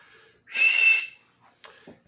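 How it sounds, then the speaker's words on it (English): A person whistles a sustained high tone while playing the 1942 Parker Brothers board game Ranger Commandos, one loud whistle lasting about half a second, followed by faint breathy sounds. "So that means we need to whistle."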